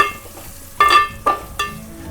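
Garlic being added and stirred into a poha mixture in a hot pan: three short, loud scraping stirs with brief sizzle bursts, close up, no talk.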